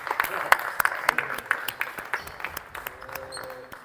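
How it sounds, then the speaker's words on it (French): Applause for players at a coaches' event, a thinner scattering of individual claps with sharp, uneven hits that taper off, while a few voices talk underneath. "qu'on vous applaudisse une dernière fois pour ce spectacle extraordinaire"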